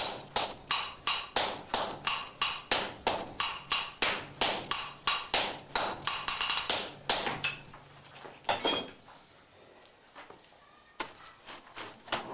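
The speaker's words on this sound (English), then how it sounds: "The rhythm of Yoshindo's small hammer tells his disciples wielding the large hammers how hard and fast they should hit the steel." Hammers ring on steel during traditional Japanese katana forging, a fast, steady run of loud metallic strikes that mixes lighter and heavier blows, then slows and stops, leaving a quieter workshop.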